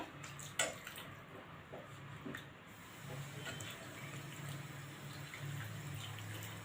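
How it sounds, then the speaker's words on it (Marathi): Water pours steadily into a pot of field bean and potato curry on low heat, a faint, continuous splashing hiss after a small clink. "आपण आता यामध्ये आपण पाणी घालूया"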